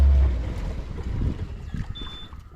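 A speed boat runs across open water in the Patratu Valley on a foggy day, a steady rushing roar of hull and wind buffeting the microphone, loud and continuous with no talk.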